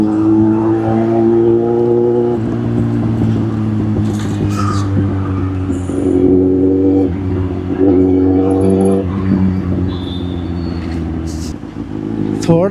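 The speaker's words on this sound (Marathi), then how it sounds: "आता आमच्या इथं हायच ट्रॅफिक" City road traffic in Pune, with car and motorcycle engines humming and revving close by. Crows caw repeatedly over the steady traffic noise.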